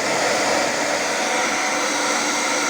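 A hair dryer under repair runs at full heat and its highest fan speed, giving a steady, loud, close whoosh of airflow with a motor whine that holds constant throughout.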